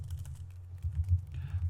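Keystrokes on a computer keyboard while coding a navigation menu in Notepad, a quiet steady run of clicks over a low background hum, with a brighter burst of taps near the end.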